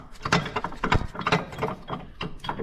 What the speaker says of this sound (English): these cab mount bolts right here, they usually spin and break off, and that's what this one's doing